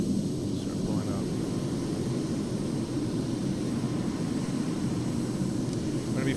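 F/A-18 Super Hornet jet in the Arma 3 video game climbing at full throttle after takeoff, a steady, dense engine roar that holds at even loudness throughout with no breaks.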